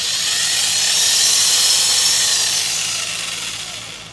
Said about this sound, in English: We'll turn the lathe speed down.